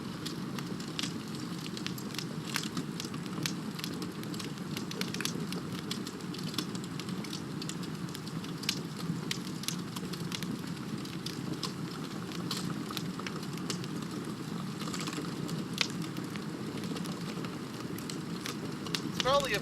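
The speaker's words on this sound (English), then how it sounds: "Feel free to join me by the campfire." A campfire ambience plays as a steady bed of close crackles and sharp pops over a soft low roar, continuous throughout with light irregular snaps.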